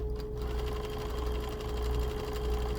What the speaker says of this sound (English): make sure my knit fabric on that teeny tiny little corner doesn't get sucked up into that sewing machine like it can sometimes